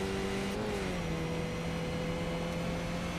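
Skip Barber Formula 2000 race car in a racing game at the Nürburgring Nordschleife, its engine droning steadily with a brief dip in pitch before settling into a constant hum, with no talk.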